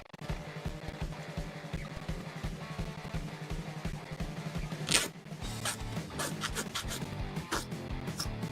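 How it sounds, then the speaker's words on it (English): A file works the nubs on a part from a 1/144 HG Bandai Gundam Pharact plastic model kit. Quiet, rapid, rhythmic scratching strokes run close up throughout, with one brief sharper rasp midway. "Follow the curve when you're filing nubs on a curve."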